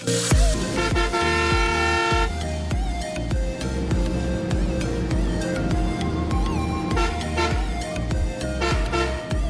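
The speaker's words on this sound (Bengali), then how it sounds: "ব্রিজের নিচ দিয়ে এভাবে হর্ন দিলে এত সুন্দর একটা প্রতিধ্বনি হয়" Loud vehicle horns blare in long, repeated tones, ringing and echoing under a bridge, over a rumbling engine.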